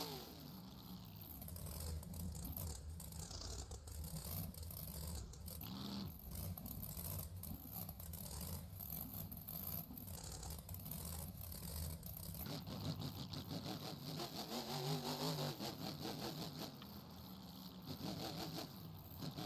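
Gravedigger monster truck's engine rumbling and revving at an arena event, a continuous loud roar with rising rev swells near the end, no talking over it.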